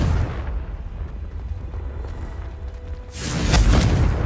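A Confringo fire blast spell in Hogwarts Legacy: rumbling low ambience builds into a loud, broad fiery explosion near the end, swelling with a bright crackling rush.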